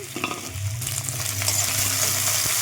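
Food frying hard in a pan for a quick tiffin dish, a steady close sizzle with scraping and stirring clatter from a spatula, growing slightly louder toward the end; no voices.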